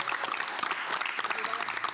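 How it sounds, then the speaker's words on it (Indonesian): Crowd applause celebrating at a live-streamed gathering, a brief burst of many people clapping close by, loud and continuous, mixed with cheering voices and talk. "Sekarang kita tepuk tangan lah."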